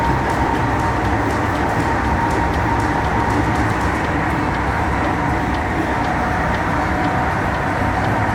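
Stockholm to Kiruna night train running, a loud steady rumble of wheels on rail with continuous rolling noise and faint rhythmic clicks throughout.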